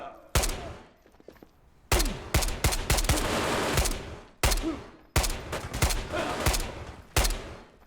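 Bursts of automatic gunfire in a video game firefight, several loud, close volleys of rapid shots separated by brief pauses, each burst trailing off with echoing decay.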